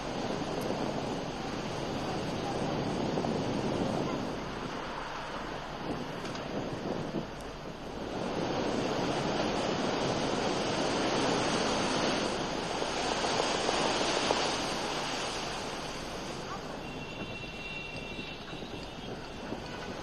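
High-tide sea waves surge at Marine Lines in Mumbai, a broad, continuous roar of crashing water mixed with wind buffeting, swelling and easing in long loud waves over twenty seconds.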